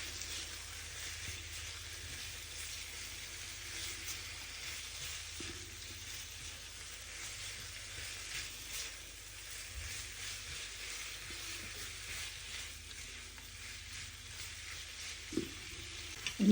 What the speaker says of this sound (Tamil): போட்டுட்டு பொரிச்சு வச்ச வாழைக்காய் இதுக்குள்ள போடுவோம். போட்டு நல்லா பிரட்டுவோம்.